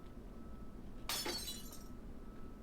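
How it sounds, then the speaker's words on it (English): Glass shatters in a single sudden crash with tinkling fragments, loud and close, then a quiet room hum with no speech. "The sound of glass shattering rents through the air as soon as her hold on loosens."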